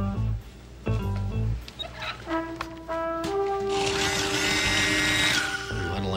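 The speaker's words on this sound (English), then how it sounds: "There's a drill in the suitcase." A power drill whirs and bores into a wall in a TV comedy scene, its whine building and holding steady loud after a few scattered knocks and clatters.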